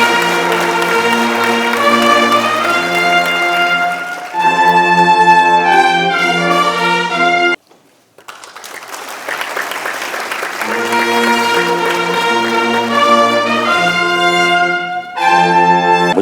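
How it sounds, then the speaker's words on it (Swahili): Loud audience applause at a national development-vision launch ceremony swells up after a short pause in the band music and carries on underneath it as the music resumes. "makofi tena mengi sana"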